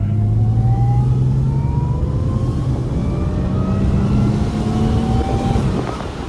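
A car is driven hard along a canyon road, its engine droning loud and steady with rising pitch sweeps as it climbs through the gears, then easing off near the end, with no one speaking.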